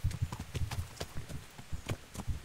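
A horse's hooves clip-clop in the video game Kingdom Come Deliverance, a quick, even trotting rhythm of close, muffled thuds that continues throughout without speech.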